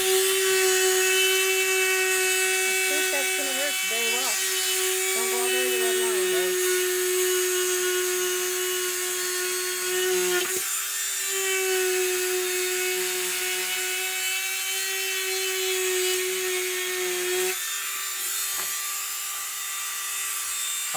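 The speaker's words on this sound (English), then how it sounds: "our plan B is a Dremel tool" Dremel rotary tool cutting into a plastic bucket gives a loud, steady high-pitched whine, with the grinding pitch dipping and wavering as the bit bites the plastic and two brief interruptions.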